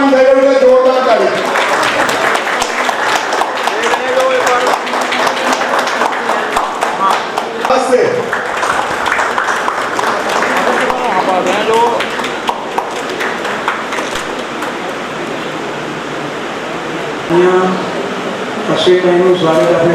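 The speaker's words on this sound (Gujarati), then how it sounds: "જોરદાર તાળી।" Audience applause at a trust's honouring ceremony, sustained crowd clapping with voices and talk mixed in throughout.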